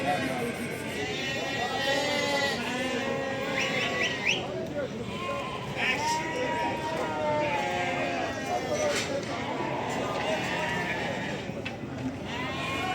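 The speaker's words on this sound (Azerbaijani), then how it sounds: "O qoyunlar kimindir?" Sheep bleat repeatedly at a livestock market in Barda, Azerbaijan, with overlapping calls from several animals near and far mixed with people talking in the background.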